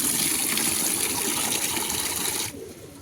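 Water gushes steadily into a bucket being filled to bathe pigeons, a loud continuous pour that changes tone and softens near the end as the flow stops.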